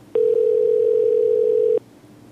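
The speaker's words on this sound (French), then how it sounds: "Comme toujours, je compose et j'appelle l'assistante" A steady telephone dial tone sounds while a number is dialed to reach a voice assistant, one continuous loud tone lasting about a second and a half and then cutting off cleanly.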